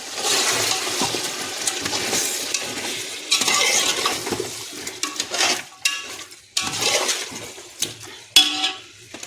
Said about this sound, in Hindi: इसमें डाल देंगे तो नरम रहते हैं चावल। इसको मिक्स कर देंगे।